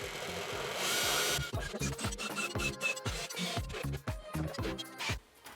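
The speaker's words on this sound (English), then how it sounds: "You've seen how we can do that using one of these lovely little drills and a very good tile cutter." Small drill bit working through shower tile: a steady grinding whine for the first second and a half, then a run of irregular scraping, tapping and rubbing bursts, close and fairly loud.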